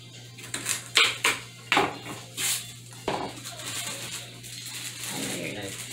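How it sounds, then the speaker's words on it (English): A knife chops roughly through celery stalks on a cutting board for chicken noodle soup, giving several distinct, uneven knocks in a loose rhythm before the cutting trails off, under a steady low kitchen hum. "I'm going to chop these up roughly since I am not going to use these veggies"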